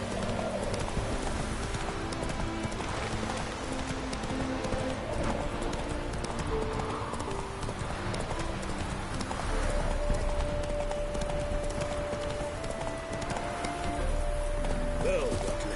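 Horse hooves gallop in The Witcher 3 with a steady, rhythmic clip-clop over rumbling game ambience and music; a brief whinny rises near the end.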